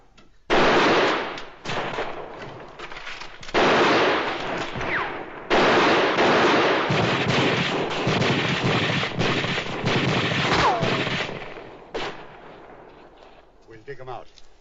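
Loud, dense bursts of rifle and gun fire roar in repeated volleys during a battle scene in a 1955 western film, with brief gaps between, and a voice speaks briefly near the end.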